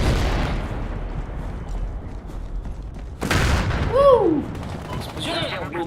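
Explosions and gunfire in the video game Battlefield Hardline: a sharp loud boom bursts out midway over a dense rumbling background of shots, followed by whistling, ringing tones.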